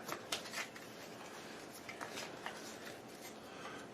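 Cards from the Pandemic Legacy Season 2 board game are shuffled by hand close up, soft quick riffles and papery slaps in short bursts, quiet with no talk over them.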